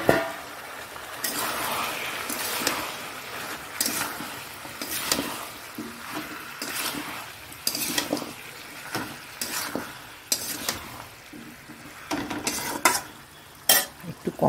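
Green chilies sauté and sizzle in a pan for a pizza topping, a soft steady frying hiss under repeated scraping and stirring strokes of a utensil against the pan, close and fairly quiet.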